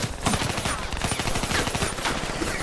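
Rapid overlapping gunfire from a Black Ops 3 three-versus-three Search and Destroy match, dense bursts of shots filling the clip steadily at close range with little pause.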